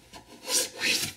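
A hand plane smooths a hand-cut wooden dovetail drawer, two quick close rasping strokes across the wood, rising and falling in loudness.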